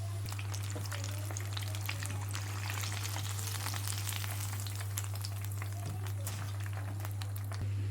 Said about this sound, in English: So we're just going to allow these to fry until the coating is cooked.